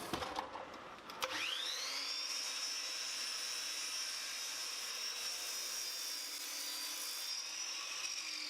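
A drop saw spins up with a rising whine and cuts a long 45-degree miter bevel in clamped-down wood, holding a steady high-pitched tone for several seconds, fairly close with no voices.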